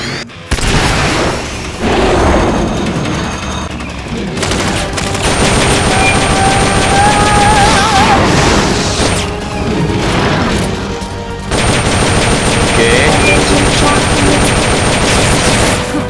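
A boss in Metal Gear Solid Peace Walker fires its boosters, loud roaring blasts and crashing bursts with rapid gunfire-like crackle, broken by two brief near-silent gaps.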